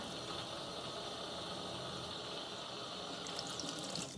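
Steady running water from a tap into a sink, a constant broad hiss with faint splashing near the end, no talking.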